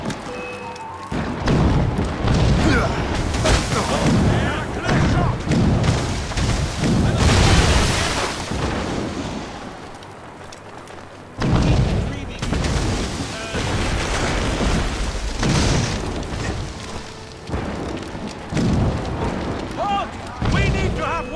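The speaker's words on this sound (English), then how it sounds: "Chevalier is using mortars to stop Shay." Mortar fire pounds away in Assassin's Creed Rogue, heavy rumbling booms and explosions landing again and again close by, with a brief lull midway, under dialogue and game sound.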